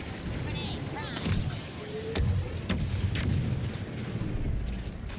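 In the Star Wars Battlefront 2 game, a grenade explodes amid battle noise, heard as several deep booms and sharp cracks over a rumbling background while a voice speaks.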